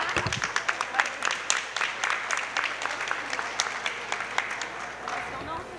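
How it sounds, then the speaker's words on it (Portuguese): Lively audience applause at a gathering for seniors, quick, crisp clapping from many hands that carries on steadily throughout, with a voice briefly heard beneath it. "Gente, uma salva de palmas para a Miriam."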